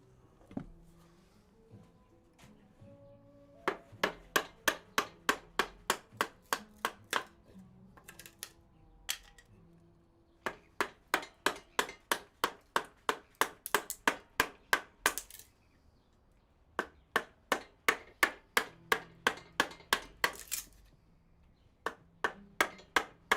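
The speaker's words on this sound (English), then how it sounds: "I'm just going to chisel this section." Mallet strikes drive a chisel into wood during Maori whakairo carving, sharp knocks in quick regular runs of a dozen or more, separated by short pauses.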